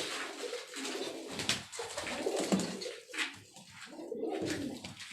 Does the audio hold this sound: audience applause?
no